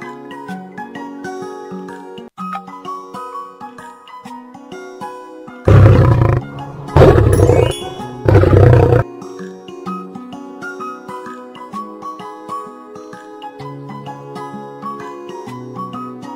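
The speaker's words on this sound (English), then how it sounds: "Lion." A lion gives three loud roars in quick succession, cutting over cheerful children's music that plays throughout.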